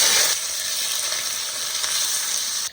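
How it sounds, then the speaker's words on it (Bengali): Potatoes sizzle steadily in hot mustard oil, a dense, continuous frying hiss close at hand, loudest in the first moment and then holding even for a few seconds with no voices. "প্রথমে সর্ষের তেল দিয়ে আলু ভেজে নেব।"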